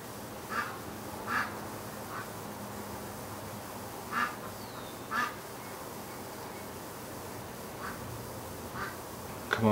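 Ducks in a pen quack faintly and sporadically, short single calls scattered at irregular intervals over a quiet outdoor hiss, sounding somewhat distant.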